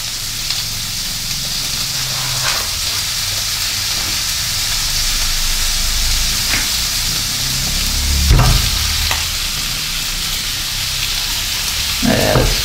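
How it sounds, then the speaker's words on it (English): Partly frozen minced pork fries with belly pork in a hot pan, a loud, dense sizzle running throughout, broken by a few sharp spatters and clatters near the end, with no talking. "now I'm going to add the minced pork"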